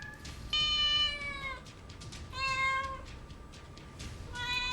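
A cat meows in three drawn-out, plaintive calls, close and clear, separated by short pauses over quiet background hiss.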